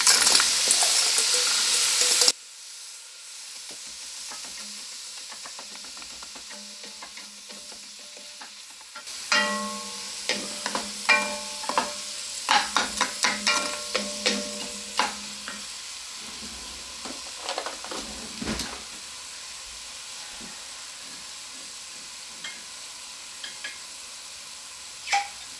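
Carrots and celery for a soup drop into a hot pot: a loud burst of sizzling, then a quieter hiss broken by a run of sharp utensil clinks and scrapes as the vegetables are stirred.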